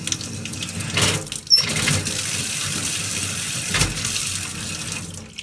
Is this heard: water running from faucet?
yes